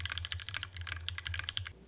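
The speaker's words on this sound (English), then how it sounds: "Today I'm turning this basic sounding Tofu keyboard" Fast continuous typing on a Tofu60 mechanical keyboard fitted with Gateron black ink switches, crisp close keystroke clacks in quick irregular succession over a low background hum.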